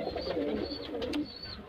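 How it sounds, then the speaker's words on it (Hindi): A Malwai pigeon chick coos softly up close, a low throaty murmur running throughout, broken by a couple of brief higher peeps. "तो ये है हमारा मलवई कबूतर का बच्चा"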